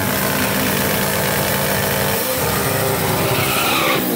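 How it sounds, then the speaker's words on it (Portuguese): A drag race car at a drag racing event heats its tyres in a burnout, giving a loud, continuous roar of engine and spinning rubber that shifts in pitch near the end. "Aquecendo seus pneus."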